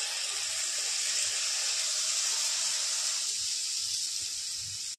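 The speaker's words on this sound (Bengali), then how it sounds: "এবার আমি তেলের পরে ছেড়ে দেব।" Batter for paka kola pitha dropped into hot oil gives a steady, bright sizzling hiss close to the pan, easing a little near the end before it cuts off abruptly.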